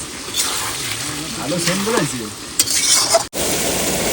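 Meat being sautéed and stirred in a pan, with a steady frying sizzle and scraping stirs throughout, a brief interruption near the end, and a voice speaking over it partway.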